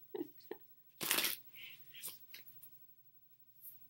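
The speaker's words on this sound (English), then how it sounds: "trying to shuffle two different decks of cards," Two different decks of tarot cards being shuffled together: a few soft taps, then a loud riffling burst around one second, followed by shorter scattered card shuffles and slides, close and fairly quiet overall.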